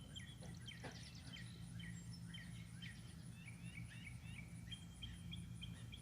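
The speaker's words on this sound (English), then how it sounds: "There's almost always some of these little birds here." Small birds chirp and tweet outdoors nearby, a scatter of quick high calls repeating through a quiet background hum, faint overall.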